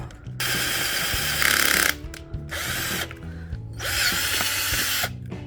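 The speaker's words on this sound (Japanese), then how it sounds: "ドリルを駆使してからね、穴広げてみたいと思います。" A power drill bores out holes in a newly bought mounting part, running in three loud whining bursts with short pauses between them and clicks and handling knocks in the gaps.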